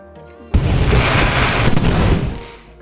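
A firework bursts at the Rhine Falls in Switzerland, one sudden loud boom that rolls into a crackling rumble and fades over about two seconds.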